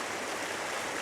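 A river rushing over moss-covered rocks, heard from right at the water's edge as a loud, steady, broadband roar of flowing water with no voices.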